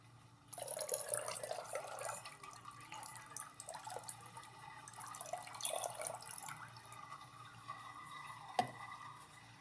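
Water from a running washing machine drains and trickles steadily at close range, a soft continuous splashing flow with faint drips and one sharp clunk near the end.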